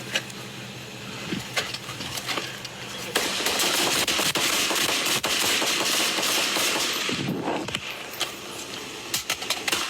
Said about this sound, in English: the suspect was fatally struck by gunfire